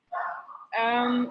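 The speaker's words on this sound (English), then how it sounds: "That's my dog barking in the background" A pet dog barks loudly and close in two drawn-out, howling outbursts that briefly interrupt an online meeting.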